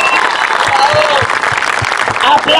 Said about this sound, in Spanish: Aplauso para la señorita.